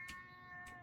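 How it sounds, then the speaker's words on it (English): A cat gives two short meows in quick succession, close and fairly quiet, with a steady electronic tone humming underneath. "so now we have cats in the class"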